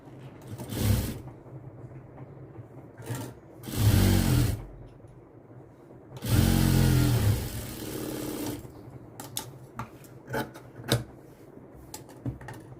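A sewing machine stitches a lining blouse in bursts, with several loud whirring runs of a few seconds each separated by pauses and shorter quick bursts, close to the microphone and with no talking.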